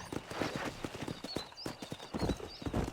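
Horse hooves gallop across open ground in Red Dead Redemption, a loud, fast rhythmic clip-clop with a brief whinny, close and steady with a rider urging the mount on.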